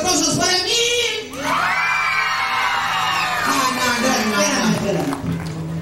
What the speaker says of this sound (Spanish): ¡Gritos y aplausos para mí!